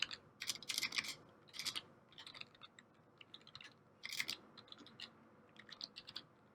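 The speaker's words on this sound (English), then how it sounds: "I can't type today." Bursts of keyboard typing on a computer keyboard during a coding demo, irregular clusters of key clicks with short pauses, close and fairly quiet, no speech.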